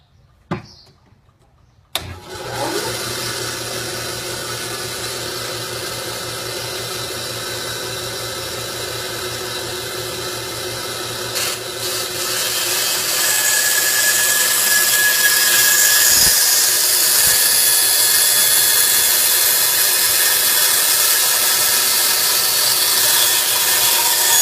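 Seam on a model truck cab, a DCP IH Lonestar daycab, cut out with a power tool blade: a sharp click, then a steady whining grind that gets louder partway through and runs on.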